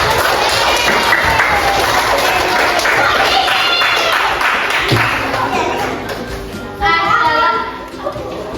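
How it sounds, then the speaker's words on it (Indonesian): Classroom applause for a student group after their presentation: a steady wash of clapping and crowd noise from children, with a brief swell of cheering near the end. "Beri aplaus untuk kelompok 1."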